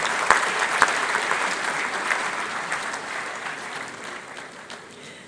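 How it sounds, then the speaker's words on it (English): A large audience at a university graduation ceremony applauds a professor, dense steady clapping that opens strongly, with a couple of sharp louder claps near the start, then gradually thins and fades. "let's give Prof another round of applause"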